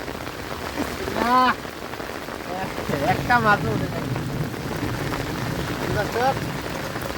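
Steady, heavy rain hissing down throughout over a village canal in Bangladesh during fishing, with a voice speaking briefly over it.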